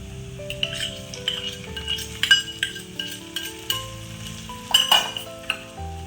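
Ginger-garlic paste and small chopped tomato stirred in a pan for a street-style masala shev bhaji, with a soft sizzle under scraping spoon strokes and occasional clinks of utensil against metal, steady and close.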